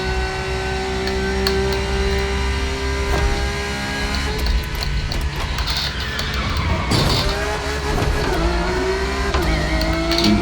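Race car engines in a racing video game roar steadily throughout, several cars running close together with a sweeping pitch shift and downshift near the end, loud and continuous.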